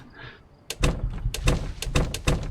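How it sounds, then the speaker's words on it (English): Wooden door in the Project Zomboid video game repeatedly opening and closing, a rapid series of sharp, loud wooden thuds and clacks in quick succession after a quiet start, no talking over them. "if you right click to open and close the door, but if you just press E, the action button, it just does it immediately"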